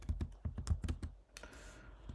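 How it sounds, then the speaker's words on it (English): Quick bursts of keystrokes on a computer keyboard as a PyMOL command is typed, a run of sharp clicks, then a short pause and a few more taps, close and quiet, with no voices. "So I'll type this command"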